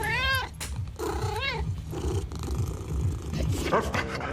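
Cartoonish cat meows with rising and falling pitch, heard several times over a busy backdrop of Fortnite game sounds and music, with some talking mixed in.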